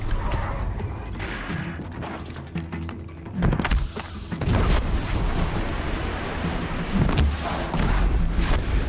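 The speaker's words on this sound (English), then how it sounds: "Okay, never used that bomb before, good to know" A bomb goes off in Horizon Zero Dawn with heavy booming crashes, several loud blasts in a few seconds over rumbling game ambience.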